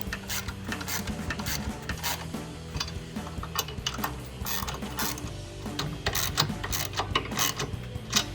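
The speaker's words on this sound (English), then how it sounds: "I just like to snug these up all the way around before I fully tighten them" A ratchet snugs up bolts on the upper control arm of a 2014-2018 Chevrolet Silverado 1500, rapid clicking in uneven bursts close by with metallic clatter.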